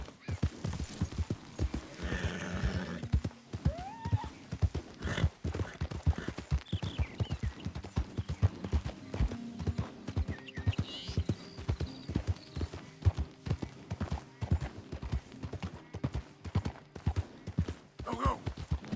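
A horse galloping in the Red Dead Redemption 2 video game, rapid rhythmic hoofbeats pounding steadily throughout, with an occasional neigh and snort and a voice calling out over the running.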